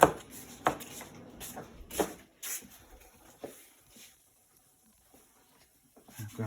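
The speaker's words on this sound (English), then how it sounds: "Chopping these up." A knife chops broccoli for soup on a cutting board in a home kitchen, giving a few sharp, irregular thuds close up, then quieter pauses with faint kitchen noise.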